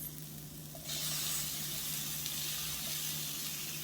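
Tomatoes hit a pan of zucchini noodles and set off a loud, steady sizzle. The hiss jumps sharply about a second in and then holds close and constant with no talking.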